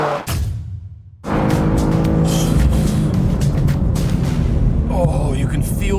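A 2023 BMW M2 in a drag race against an Audi RS3, heard from inside: after a brief hush the engine roars into a loud, continuous acceleration with rising tone, while an occupant talks over it.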